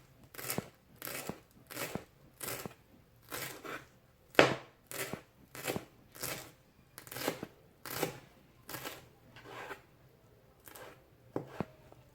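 Vegetables are chopped for a garnish on a cutting board beside a plate of posho (ugali), about sixteen crisp knife strikes in a steady slow rhythm, close and clear over a quiet background with no speech.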